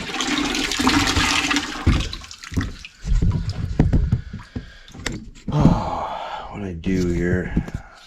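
Water rushes and gurgles through household plumbing lines as a Navien water heater system is flushed out, with loud surging bursts, knocks and clunks over several seconds.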